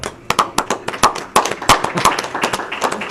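A few people in a school board meeting audience clap, giving sharp, uneven, fairly close hand claps in a sparse burst lasting a few seconds with no talking.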